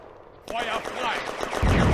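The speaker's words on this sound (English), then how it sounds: "the panzers are holding in place and suppressing Soviet positions in the village with machine gun and cannon" Machine gun and cannon fire from German panzers in a World War II video game battle at a railway junction village, a dense burst of rapid shots and blasts that swells and continues loudly under a voice speaking.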